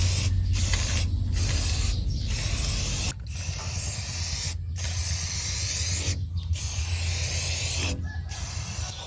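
Acrylic paint sprayed onto a downspout pipe, a loud close hissing spray in repeated long bursts separated by brief pauses, with a low hum underneath.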